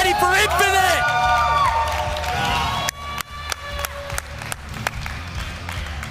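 A crowd cheers and applauds at a Halo Reach esports event, DreamHack Halo Series Anaheim, with loud sustained roaring and clapping, sharp whoops early on, then scattered bursts of clapping.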